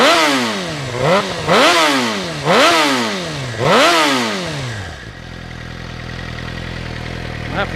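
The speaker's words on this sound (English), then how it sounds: "it's difficult to replicate the sound of an exhaust just revving it up stationary" Stationary motorcycle with its exhaust revved four times in quick succession, each rev climbing and dropping sharply, then settling into a rough, lumpy idle, loud and close.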